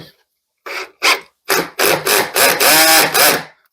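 A sheetrock screw gun drives screws into drywall in a series of short, loud bursts, each spin-up separated by brief pauses and growing longer toward the end, close to the microphone.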